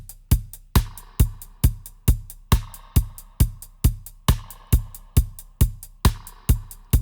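Halftime reggae drum beat programmed in Logic Pro X, with side-stick snare clicks and kick hits repeating in a steady, evenly spaced loop, loud and clear with no voices over it.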